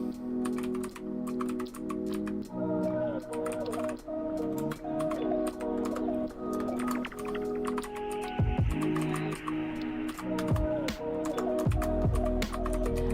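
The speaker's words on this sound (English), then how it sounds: "I love the way this keyboard sounds." Steady, rapid typing on a secondhand computer keyboard bought at Goodwill, some keys in need of repair, with clacky keystrokes close up that continue throughout over a constant background hum.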